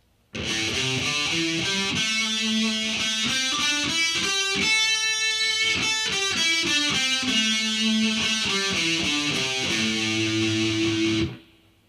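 A distorted electric guitar plays a pentatonic scale for rock and metal, its notes rising and then falling in a steady, evenly picked run before a final held chord, loud and alone.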